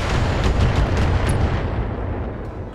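Long-range missiles bursting in a Battletech mech battle, a loud, continuous deep rumble of explosions that rolls on for a few seconds and slowly fades.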